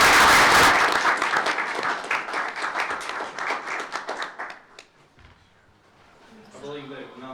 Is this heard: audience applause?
yes